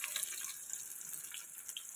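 Shrimp fritters (chingri bora) sizzle in hot oil, a faint, steady high crackle and hiss with small bright pops throughout.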